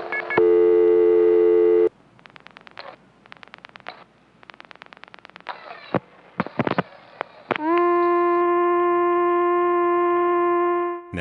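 A loud steady electronic telephone tone from a Nippon PBX, heard instead of a ringback tone on 1970s tie-lines, then bursts of rapid clicking and pulsing, ending in another sustained multi-pitched tone.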